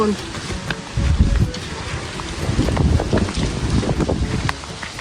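Strong wind gusting across an open fish pond, a rough, broadband roar pressing on the microphone in uneven waves throughout, with faint background voices underneath.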